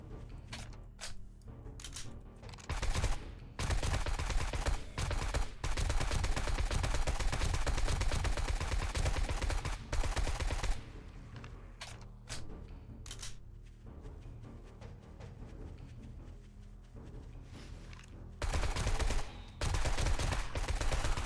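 Bursts of rapid automatic gunfire hammer at a boss enemy in the survival game 7 Days to Die, loud and close, with long sustained volleys broken by short pauses and scattered single shots, and no talking.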